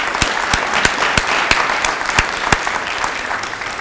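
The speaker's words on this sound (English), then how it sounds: "Please join me once more in giving Alan a round of applause for his wonderful remarks." Audience applause at a forum on urban blight, a steady close wash of many hands clapping with a few sharper individual claps standing out.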